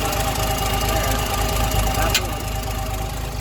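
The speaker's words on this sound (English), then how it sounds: "that loud tick that you just heard is this manifold actually has 3 pieces and it expands" The running engine of a 1958 Mack B-21 fire truck rumbles at a steady idle close by, with a rapid rhythmic ticking from a three-piece exhaust manifold and one sharp squeal partway through.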